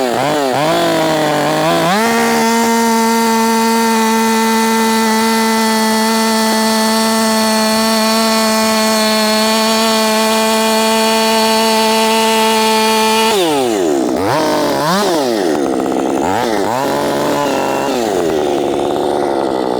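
A Husqvarna 562XP Mk1 60cc chainsaw, built for a 60cc challenge, revs up, holds a loud steady high-pitched scream, then drops off and revs again, close and alone with no talking.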